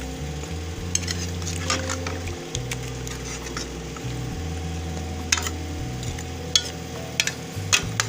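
Chicken being bhuna-fried in a pot for a bhindi gosht (okra and chicken) dish, giving a steady low sizzle broken by intermittent scraping stirs and clinks of a spoon against the pot, with no talking.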